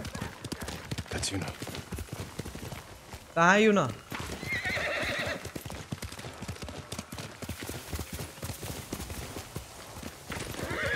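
Horse hooves and a whinny from the horror video game Sushma Ka Bhoot: a loud, rising neigh bursts out briefly amid rapid clip-clop footfalls, while a voice talks over the game audio.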